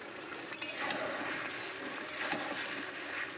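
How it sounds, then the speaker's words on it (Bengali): Chicken sautéed in a pan for chicken posto, with a soft steady sizzle and a few light metallic scrapes and clinks of the utensil against the pan, close by and fairly quiet, no talking. "চলো চিকেনটা একটু ভালো করে কষিয়ে নিই আগে।"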